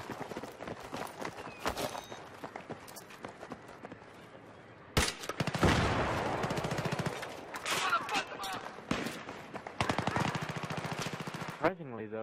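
Gunfire from Battlefield 3 rattles in bursts: sparse shots at first, then loud, dense automatic fire after the midpoint, with sharp single cracks between the bursts.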